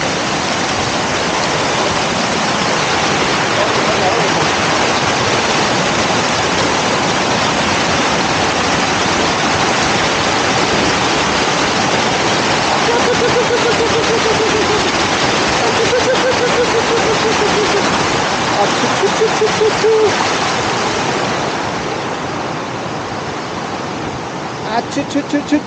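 Mountain stream rushing loudly and steadily nearby, a dense continuous roar of flowing water, with faint voices and a few knocks toward the end.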